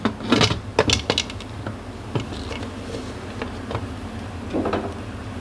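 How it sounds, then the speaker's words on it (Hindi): A pressure cooker lid being closed onto the pot for arvi gosht, a brief cluster of metallic clanks and scrapes at the start, followed by quieter small rattles and handling. "अब मैं प्रेशर का ढक्कन बंद कर दूंगी"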